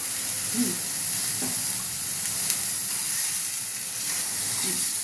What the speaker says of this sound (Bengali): এবার নেড়ে নিচ্ছে, যতক্ষণ না মশলা থেকে তেল ছাড়ে ততক্ষণ নাড়ছে।